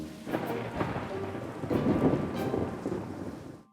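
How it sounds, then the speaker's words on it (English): Thunder rumbles low and rolling through steady rainfall, a stormy wash of rain on surfaces with a few louder crackles, fairly soft overall and fading out at the end. "Number 4, fear of thunder and lightning."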